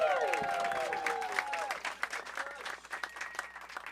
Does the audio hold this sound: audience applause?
yes